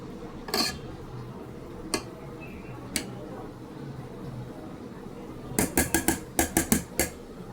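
A utensil stirs cooked pulao in a pot, giving a few isolated metallic clinks and then a quick series of rhythmic taps against the pot near the end. The sounds are close and set against a quiet room.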